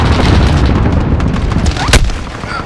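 A frag grenade detonates in Modern Warfare multiplayer on the Hovec Sawmill map, a dense rumbling boom layered over continuous battle noise, with one sharp loud blast standing out near the end.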